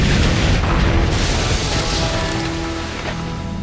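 Heavy broadside cannon fire from a pirate ship in Assassin's Creed Black Flag, a loud, dense booming rumble that rolls on and slowly fades with no talk over it.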